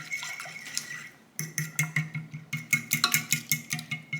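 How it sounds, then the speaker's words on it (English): Whisk rattling rhythmically against a dish while mixing a cinnamon and vanilla mixture, a brief clink before a run of quick, close scraping strokes. "now we're just gonna stir and whisk everything together again"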